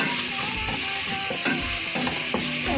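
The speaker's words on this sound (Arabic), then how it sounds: "معلقتين من الزيت ومعلقة من السمنة، نحمر فيها الشعرية" Vermicelli frying in a mix of oil and ghee, a dense continuous sizzle close up with repeated scraping stirs of a spoon against the pan throughout.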